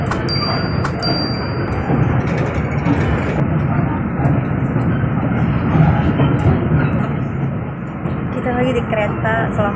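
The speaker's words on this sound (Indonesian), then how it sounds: "ntar lagi keretanya datang" A train arrives at a station in Shulin, Taiwan, rumbling and rattling steadily nearby, heavy low mechanical noise with clattering wheels, continuing throughout at a loud level.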